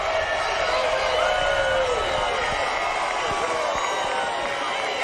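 A race crowd cheering loudly after a close finish, a dense sustained roar with whoops, while a commentator talks over it.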